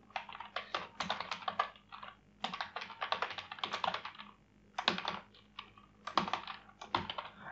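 Bursts of rapid key clicks on a computer keyboard while JavaScript code is typed, close and clear, in uneven runs separated by short pauses.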